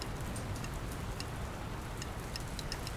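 Steady rain in the video game Dr. Langeskov, The Tiger, and The Terribly Cursed Emerald, a soft continuous patter with faint ticking drops throughout, quiet and unbroken with no voices.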